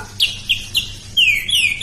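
A young murai batu (white-rumped shama) sings close by: a few short, sharp chirps, then longer bright descending whistles, clear and alone.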